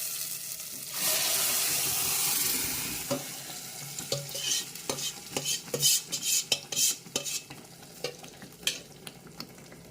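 Cooked dal pours into a hot tempering in a pot with a loud sizzling rush, then a spoon stirs and scrapes the metal pot in irregular clinks and knocks as the hiss fades; no talking.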